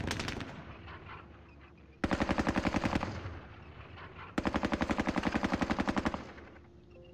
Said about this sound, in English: Firing with the MG there.